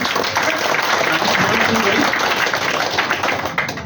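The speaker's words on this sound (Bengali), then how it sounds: "সবাই জোরে হাততালি দিয়ে লিভেন গ্লোবালের জন্য" A seated crowd at a health talk program claps loudly for the organizers, a thick, continuous burst of applause from many hands that holds steady and then begins to thin out near the end.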